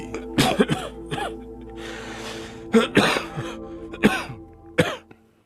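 A prolonged fit of repeated coughing, close and raspy, with wheezy breaths between the hacking bursts.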